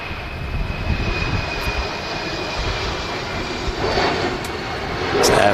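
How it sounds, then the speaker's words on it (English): An Embraer 190 jet climbs out after takeoff from Manchester, a steady broad engine roar heard from a distance that swells slightly near the end. "great camera work tracking the Embraer 190 climbing out of Manchester and heading to Paris Charles de Gaulle"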